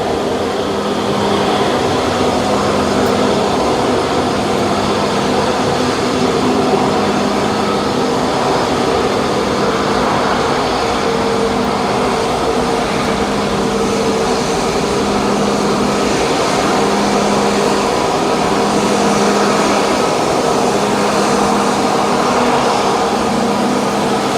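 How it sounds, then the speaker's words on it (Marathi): An Air India airliner taking off at Mumbai airport, a loud, steady jet roar with a constant droning hum that holds for nearly half a minute without easing. "आता हा बघा टेकऑफ होईल उडान घेईल आता हा"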